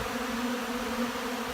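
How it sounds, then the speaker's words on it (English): Many honey bees buzz around a hive in early spring, a continuous close droning hum with no other sounds. "Holy, this is a lot of bees"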